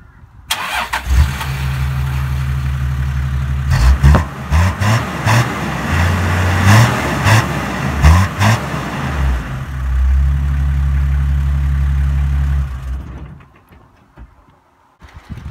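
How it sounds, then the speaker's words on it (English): A 1993 Toyota Landcruiser 80 Series with a 1HZ non-turbo diesel cranks and fires, then runs with a loud, close diesel clatter through a few revs before settling and cutting off, ending in near silence. "under the bonnet of the big girl, we've got the 1HZ non-turbo diesel"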